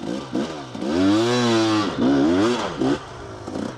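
A warmed-up motorcycle in second gear climbs a powdery hill late in the run, its engine revving loud and close with rising and falling pitch and brief throttle blips between longer pulls.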